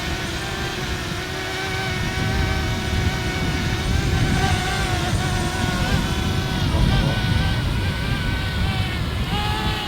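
Camera drone flying outdoors, a steady whirring buzz with tonal whine held throughout, fairly close and continuous, with no speech over it.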